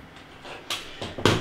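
The door of a compact home beer tap machine is closed, giving a couple of soft plastic clunks and a final firmer thud at close range.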